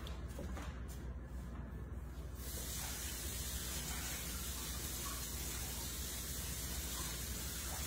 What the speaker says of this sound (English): I'm gonna give a rinse to the spatula so I can mix the limoncello one.